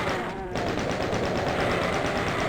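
Rapid, steady gunfire from the 2024 Doom game on PC, a continuous loud string of evenly spaced shots after a brief gap near the start.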